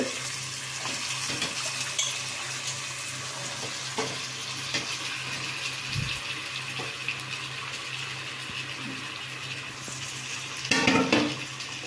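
Eggplant and onions fry in a pan with a steady close sizzle, broken by occasional spoon scrapes and clinks against the pan, and a louder clatter near the end, with no talking.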